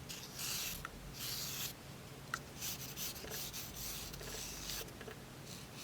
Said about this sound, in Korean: 바로 손톱 표면에 샌딩 버퍼를 세로로 사용해주는 부분인데요